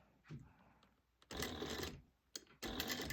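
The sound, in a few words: sewing machine sewing a crossbody bag seam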